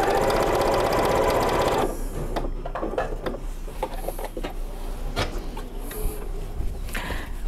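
A sewing machine runs steadily for about two seconds while quilting patchwork, then stops, followed by soft clicks and fabric-handling sounds as the presser foot is raised and the cloth is turned.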